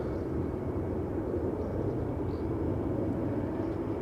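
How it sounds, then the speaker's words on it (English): KLM Boeing 737-800 bound for Athens taking off from Schiphol's Polderbaan, a sustained loud engine roar with deep rumble, even and unbroken across the span with no talk. "KLM 737-800 to Athens"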